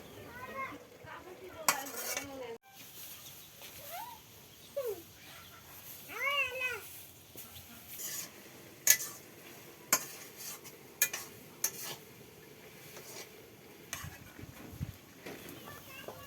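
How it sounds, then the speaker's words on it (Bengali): Malabar spinach and taro cook in a pan in a village kitchen while a utensil stirs. Scattered scraping and clinking mix with a faint sizzle, and a voice speaks intermittently over it. "বাড়ির গাছের সে পুঁই শাক কচু দিয়ে রান্না করতেছে"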